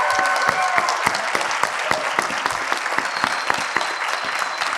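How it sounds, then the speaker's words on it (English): Audience at a Star Wars fan convention panel applauding, sharp individual claps standing out within a steady, fairly close round of clapping. "Please, one more round of applause for my special guest with me today."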